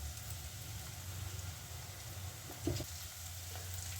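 Onions and curry leaves sizzle steadily in hot oil in a pan, with a low continuous hiss and crackle and one brief louder stir near the end. The cooking is for paneer sukka, and no one speaks.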